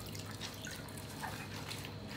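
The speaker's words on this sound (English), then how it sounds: "you're gonna be massaging these potatoes to release the starch into the water" Potatoes squished and massaged by hand inside a bag of water give faint, intermittent drips and soft sloshing splashes, quiet and close with no talking.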